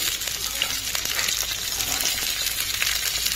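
Carrot, capsicum, cauliflower and beans for fried rice frying in a pan, a dense, steady close sizzle with faint clinks of stirring throughout and no voices.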